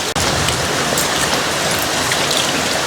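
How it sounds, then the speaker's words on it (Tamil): A heavy downpour pouring down outdoors, a loud, dense, continuous roar of rain close by, with no voices. "சுத்தி பார்த்தீங்கன்னா ஜோன்னு மழை பெய்யுது"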